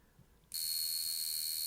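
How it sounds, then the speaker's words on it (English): A Vulcain Cricket mechanical wristwatch alarm starts abruptly after a brief quiet pause, a bright, continuous high-pitched buzzing ring from a hammer striking a membrane, close and steady to the end. "Now when I press the crown in, it should set the alarm going."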